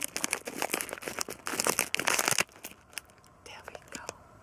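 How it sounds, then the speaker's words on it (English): Scissors cutting open the crinkly wrapper of an orange candy bonbon, a close, quiet burst of crackling and snipping, followed by softer scattered rustles. "I'm going to use my fancy scissors. My fancy peacock scissors to open it."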